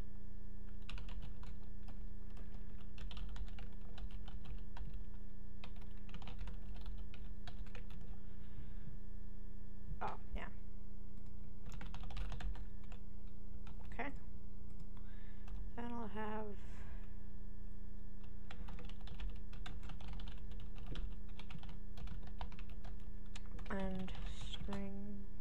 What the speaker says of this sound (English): Sorry about my keyboard noise.